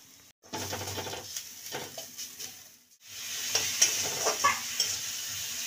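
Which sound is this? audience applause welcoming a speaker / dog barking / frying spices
frying spices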